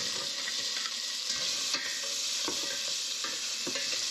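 Stir fry sizzles in a hot pan, a steady close-up hiss broken by light scraping and clacks as the food is stirred.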